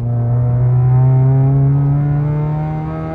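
Engine revving through a newly made custom exhaust, a loud, close, deep droning note that swells slightly and holds steady before easing off, heard alone.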